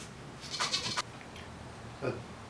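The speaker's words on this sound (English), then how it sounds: "Well, I heard my goats making noise out there." Goats bleating outside a workshop, two short faint cries about a second apart heard at a distance over quiet room tone.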